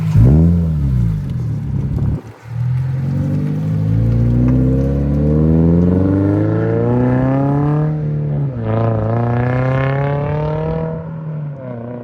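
A Toyota GR86 exhaust climbs through a long rev and acceleration, its engine note rising steadily in pitch after a brief lift, loud and close with wind noise in the cold, snowy outdoors.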